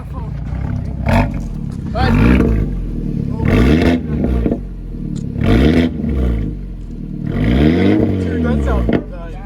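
A 2015 BMW 328i with a Borla exhaust revs hard in repeated loud bursts, its exhaust roaring and falling back between pulses, with people talking and exclaiming over it.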